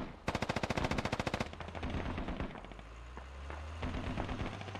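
A DShK heavy machine gun fires a rapid, loud burst of evenly spaced shots in a video game, followed by scattered impacts, a lower rumble and a few more scattered shots.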